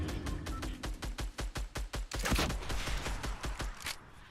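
Rapid automatic gunfire in the Fortnite video game: a long, steady burst of closely spaced, punchy shots, loud and up front, with a brief denser flurry partway through before the firing cuts off.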